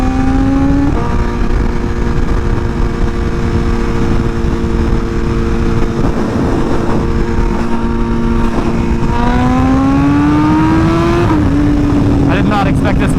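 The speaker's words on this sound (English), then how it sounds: "I did not expect this bike to take off this fast." An M1000 motorcycle accelerates hard, its engine a loud, steady high-pitched drone that climbs in pitch through gear changes over constant wind rush.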